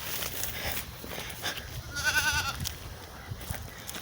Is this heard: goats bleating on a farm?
yes